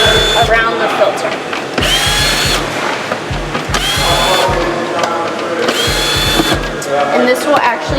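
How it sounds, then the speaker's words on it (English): A T25 power driver loosens the six bolts around an air filter, whirring in about four loud, close bursts with short pauses between them. "we're just going to take our T25 and loosen up the 6 bolts around the filter"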